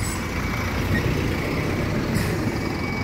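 A Caio Foz Super bus passes on a city street, its low engine rumble and road noise holding steady and fairly close throughout, with no clear peak or fade.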